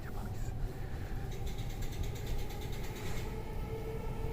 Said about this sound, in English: This is the Yamanote line passing right now.